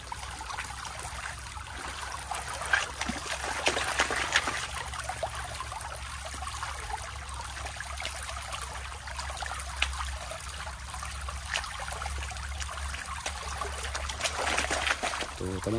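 River water trickles and splashes steadily during gold panning, a continuous close babble with occasional sharper sloshes and no speech.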